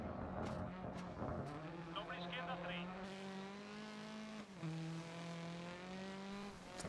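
A race car in a rally racing video game drives hard with a sustained engine tone and squealing tires as it slides through corners, fairly loud and steady, with a brief dip before the engine note returns.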